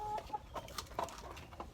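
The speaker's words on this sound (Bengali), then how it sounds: "এটা হচ্ছে টাইগার মুরগি।" Tiger chickens clucking in short, scattered bursts at moderate distance on a poultry farm, with soft farmyard background noise and no talking.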